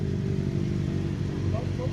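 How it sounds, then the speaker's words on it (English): Motorcycles including Triumphs and BMWs ride past during a vintage-style gentleman's motorcycle ride in London, a steady loud engine drone rolling on throughout with people talking over it. "Oh, look at the bikes coming up behind me."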